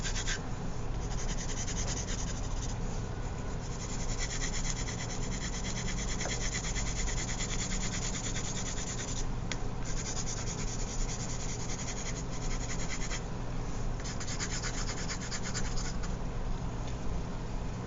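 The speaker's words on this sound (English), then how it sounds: "I'll use the same pencil for that, making sure not to go too heavy on my shading" A pencil shading on paper, with steady soft scratching and rubbing strokes that continue evenly and close up for the whole stretch, with no speech.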